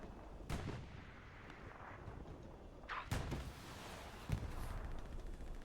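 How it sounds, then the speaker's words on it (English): A rocket explodes and guns fire in the Hell Let Loose battlefield: loud cracking shots and heavy blasts punch through a constant low rumble of distant combat, with a few strong booms spaced seconds apart. "That was a nice rocket."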